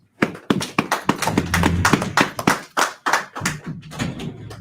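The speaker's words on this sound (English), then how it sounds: "Okay, clap it up." A church congregation at a Sabbath service claps hands together, a dense, lively burst of applause that swells quickly and carries on unevenly for several seconds, fairly close.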